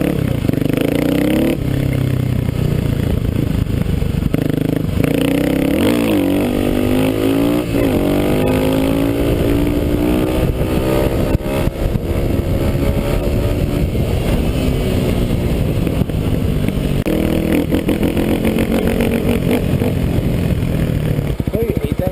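A dualsport motorcycle engine revs hard and climbs in pitch through a third gear wheelie, loud and close with steady wind buffeting, while a rider talks over it at times.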